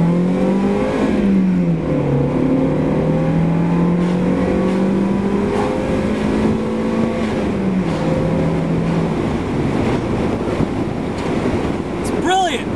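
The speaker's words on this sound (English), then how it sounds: "let's start with the engine" A Mazda MX-5's 1.8-litre engine drones steadily with rising and falling revs throughout, loud and close, with wind noise buffeting the microphone.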